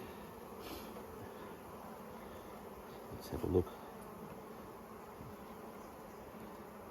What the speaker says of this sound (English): Plenty of bees in there.